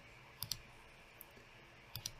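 Computer mouse clicks placing annotation points in counting software, a few faint, sharp clicks in pairs against quiet room tone, with no talk.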